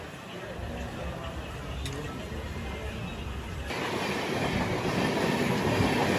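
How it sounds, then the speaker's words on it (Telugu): Vivek Express passenger train pulling away after a brief stop at Chirala station, a steady rumble of wheels and carriages that grows louder as it gathers speed, heard from on board. "జస్ట్ అలా ఆగింది, బయలుదేరిపోయింది బండి."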